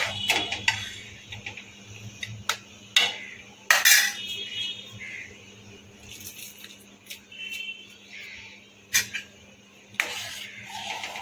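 Intermittent clinks and scrapes of a utensil against a metal wok, irregular taps and knocks over a quiet background as rice is stirred into milk for payesh.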